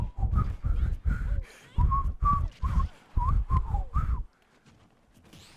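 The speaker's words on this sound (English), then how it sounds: "That is the best that I can whistle" A person whistles a short, halting tune of about ten choppy notes in quick succession, near and fairly loud, then stops, leaving faint background quiet.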